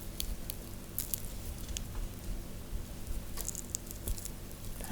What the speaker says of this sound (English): Digging my nails just a bit into the soap.